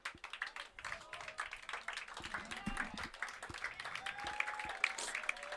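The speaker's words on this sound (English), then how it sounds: "Well-deserved round of applause for Rollins as he trots back to the bench" Scattered applause rises from a soccer crowd at an evening college match as a player jogs off to the bench, thin and somewhat distant, with claps growing denser over a few seconds while an announcer talks over it.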